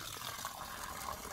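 Water flowing from a solar-powered pump drawing from a shallow well in Uganda: a steady, even gush, close by and continuous, with no voices.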